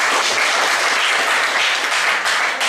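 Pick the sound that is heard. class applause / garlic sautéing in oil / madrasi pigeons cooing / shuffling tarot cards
class applause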